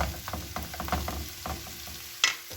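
Beetroot greens being stirred into beetroot frying in a pan, with a soft sizzle under repeated scraping stirs and one sharp clink near the end.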